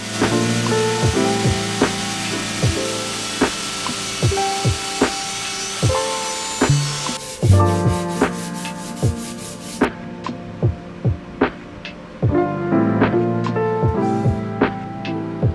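Oak pieces cut to width being rounded over with a router or similar tool, giving a steady whirring rub broken by repeated short scraping strokes and a few sharp clicks throughout.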